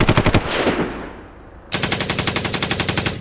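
Loud bursts of rapid machine gun fire rattle in two volleys within a dramatized zombie-apocalypse battle scene, with a fading echo between them.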